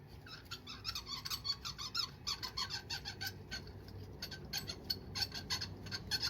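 Spark plugs on a Peugeot 308 1.6 petrol engine squeak while being unscrewed, a close, faint series of short, rapid chirps repeating in irregular bursts over a low background.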